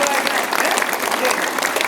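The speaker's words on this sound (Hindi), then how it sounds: "ऐसे बजाओ ताली, पक्का बजाओ, ताली बजाओ" Children clap their hands together at a school, a dense, steady patter of many small palms striking without pause, close and fairly loud, with no other sound standing out.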